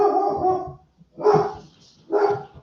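Excited puppies bark indoors: a sustained yapping burst followed by two separate sharp barks, fairly close and loud with no talking.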